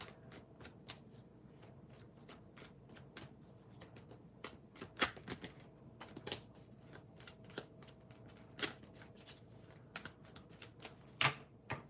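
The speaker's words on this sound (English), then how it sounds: "I need to shuffle the cards." Tarot cards being shuffled close up, a steady run of soft riffling taps and sharper flicks with brief pauses, quiet and with no talking.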